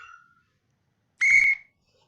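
A referee's whistle in the Action! PC Football computer game, one sharp, loud blast of about half a second after a short faint tone, then silence.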